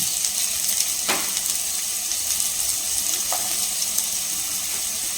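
A handful of onions frying in a little oil in a pan, a steady bright sizzle close by with a couple of brief stirring scrapes; no speech.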